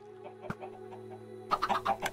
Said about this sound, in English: so it will spawn a lot of chickens